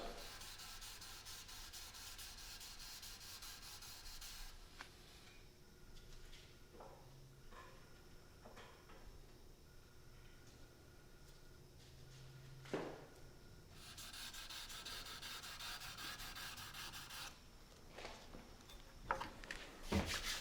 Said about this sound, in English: so I can use this sword fuller sander to sand these main bevels